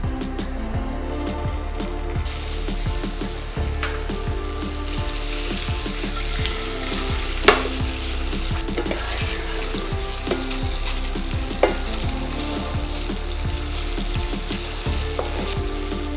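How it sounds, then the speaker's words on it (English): Paneer frying in hot oil in a kadhai, a steady loud sizzle with frequent small pops and crackles, plus occasional sharper clicks of a utensil against the pan. "Once the oil is hot, I will add the paneer."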